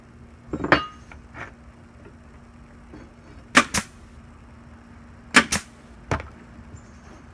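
Nails are hammered into pallet wood for an elevated garden box, a few sharp, ringing strikes arriving in pairs with pauses between them, close by and alone against a quiet outdoor background.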